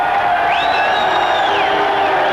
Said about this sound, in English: an equal amount of cheering and booing